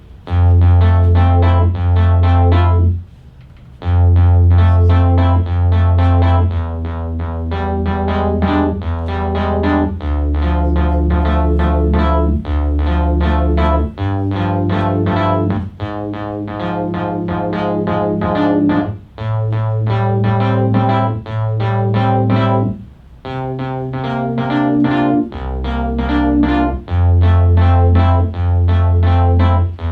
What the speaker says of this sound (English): So now that sequence sounds like this.